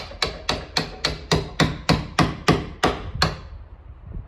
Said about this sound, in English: flip it around, hammer it down.